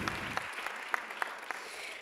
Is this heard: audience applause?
yes